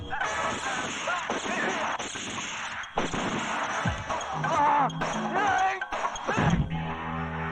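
A few heavy gunshots ring out in a Hindi Ajay Devgn action film scene, spaced a second or more apart and mixed with a dramatic score and other effects.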